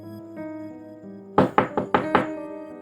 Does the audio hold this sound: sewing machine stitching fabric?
no